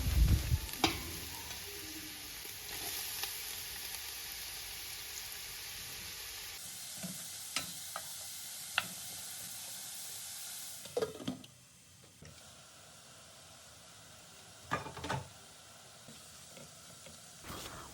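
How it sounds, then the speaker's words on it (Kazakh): Carrots and onions sizzling in oil in a large pot, a soft steady frying hiss with occasional stirring scrapes and clinks, faint and close, with no talking. "Үлкен ыдысымызға майымызды құйып, оның үстіне сәбізімізді және пиязымызды салып"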